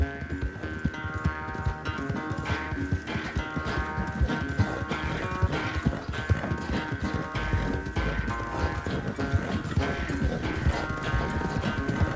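Horse hooves clip-clop steadily in Red Dead Redemption 2 as riders travel along, a continuous rhythmic trot under layered orchestral game music with no talk.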